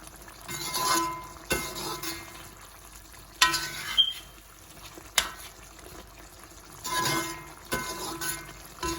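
Jaffna-style mutton piraddal curry sizzling and frying in a pan, a steady close crackle broken by a few louder stirring scrapes and clatters.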